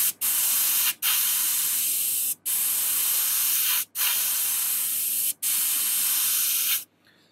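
An airbrush sprays paint onto a handmade fishing lure in about six loud, steady hissing bursts, each lasting one to two seconds with short gaps between them, then stops.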